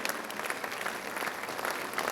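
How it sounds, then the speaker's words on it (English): Audience applause greets the chief guest at an award ceremony in Delhi, a steady dense clapping from a large hall crowd that holds evenly throughout. "can we have a round of applause for our chief guest, His Excellency, former President Shri Prana"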